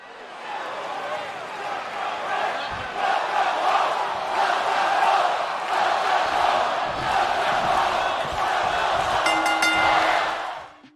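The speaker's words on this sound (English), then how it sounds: "So the crowd will chant welcome home to the returning superstar." A wrestling video game crowd in an NXT arena chants welcome home for a returning superstar, a loud, sustained roar of massed voices that swells and holds for several seconds before cutting off.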